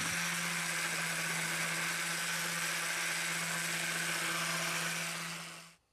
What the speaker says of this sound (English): A little sanding to smooth it out.